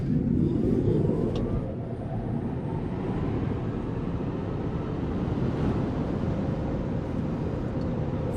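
Tesla Model 3 or Model Y on a 0 to 60 acceleration run, heard from inside as a steady, loud broadband road and wind rumble with a faint rising electric whine, sustained throughout with no talking.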